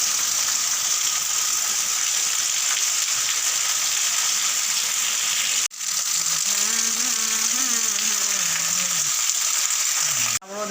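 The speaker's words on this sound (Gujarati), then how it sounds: "આજે વરસાદ જોરથી પડે છે." Heavy rain pours down in Balasar, Gujarat, a loud, steady hiss that fills the whole stretch, broken by a brief dip midway and another near the end.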